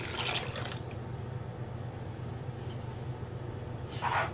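Water, about 300 grams, is poured into a pot holding cinnamon sticks and sugar to make cinnamon syrup, a steady close splashing stream with brief brighter bursts at the start and end.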